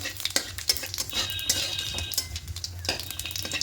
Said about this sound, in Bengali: দুটো শুকনো লঙ্কা আর দুটো তেজপাতা দেবো দিয়ে হালকা একটু নাড়াচাড়া করে নেব যাতে ফোড়নের একটা গন্ধ সুন্দর বেরোয়